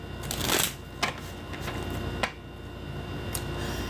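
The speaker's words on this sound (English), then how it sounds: "shuffling cards" Playing cards being shuffled up close, with a riffle burst and several crisp snaps and taps spread over a few seconds against a faint steady background hiss.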